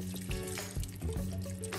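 Water is poured into a pot of chopped zucchini, carrot and onion for a vegan tofu recipe, a steady close splashing and trickling that runs for about two seconds over a busy background.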